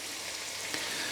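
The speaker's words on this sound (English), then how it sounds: "as it's sizzling away, we'll add the spices" Egg bhurji with tomatoes and spices sizzling in a pan: a steady, close frying crackle holding evenly throughout, with one small pop near the end and no voices.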